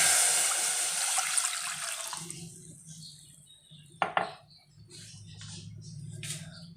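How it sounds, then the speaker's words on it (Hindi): Two glasses of water splash into a cooking pot for sugar syrup for sweet jaggery vermicelli, a steady rushing pour that fades after a couple of seconds into faint metallic clinks of the pot and utensils. "इसमें 2 गिलास पानी डाल देंगे।"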